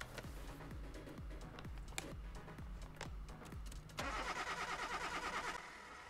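GMC van engine cranking in Car Mechanic Simulator 2021, a quiet, steady rhythmic starter turnover of about a dozen strokes before the engine catches into a brief, louder rough idle.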